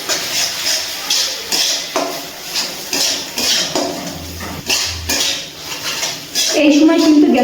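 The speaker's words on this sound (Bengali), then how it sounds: "আবারও আমি মশলাটা কষিয়ে নিচ্ছি" Spice paste for a pabda fish curry stirred in a pan over low to medium flame, with repeated metallic clanks and scrapes of a utensil against the pan, close and fairly loud, and a brief voice-like tone near the end.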